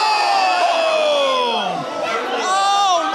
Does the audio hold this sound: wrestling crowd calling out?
yes